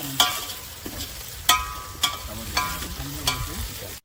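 Chicken curry is stirred in a pot cooking outdoors beside a farm field, with a handful of sharp spoon scrapes and clanks falling at uneven intervals over a steady low sizzle.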